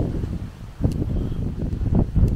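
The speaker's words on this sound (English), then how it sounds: "hopefully you can hear me above the wind because it is quite windy" Wind gusting across a microphone at an outdoor wild campsite near a quarry, a steady low rumble with louder buffeting surges throughout.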